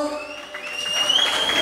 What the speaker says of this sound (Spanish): Que se escuche para Fernando el aplauso.